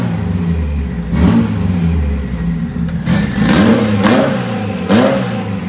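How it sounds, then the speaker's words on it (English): A Honda car engine with a coil-on-plug ignition setup revs up sharply several times, each quick rise in pitch falling back to idle in a repeating rhythm, loud and close with no talk. "as you can tell, very quick acceleration, no problem with throttle response at all"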